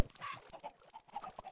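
Minecraft chickens clucking in quick succession as they are loaded into an automatic egg farm, short bright clucks overlapping at close range with no talk.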